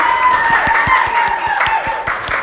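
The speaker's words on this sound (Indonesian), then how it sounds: "Tepuk tangan untuk kelompok." A class of students claps for a student group in a religious education lesson, steady rhythmic clapping over classroom chatter, fairly loud and close.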